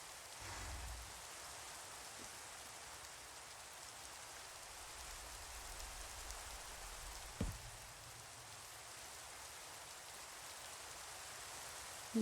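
Steady rain falls in a video game, a continuous even hiss of drops on surfaces with a faint low rumble and a couple of small clicks, no talking.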